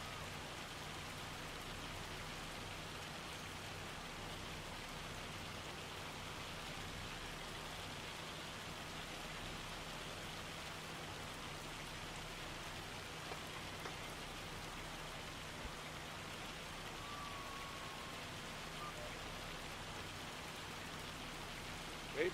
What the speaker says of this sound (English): So it's raining, so we're done for the day anyways